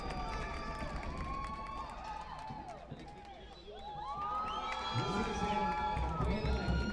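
A stadium crowd at a Brownsville FC versus Katy 1895 soccer match keeps up a steady roar of cheering and shouting, with a commentator's voice over it and the noise swelling louder near the end.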